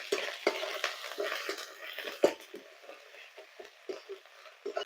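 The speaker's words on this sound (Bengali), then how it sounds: "জিরে, তেজপাতা ফোড়ন দিয়ে পেঁয়াজগুলো ভেজে নেব।" Onions frying with cumin and bay leaf for a crab biryani, a soft sizzle under repeated stirring and light scraping of a spatula against the pan, with occasional sharper clinks.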